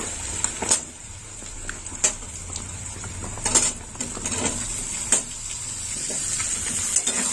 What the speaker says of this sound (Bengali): এই তেলের মধ্যে কুমড়ো আলুটাও ভাজা হয়ে যাবে